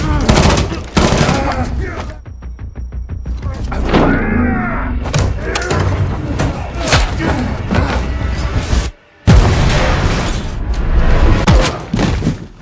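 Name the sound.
gunfire in an action film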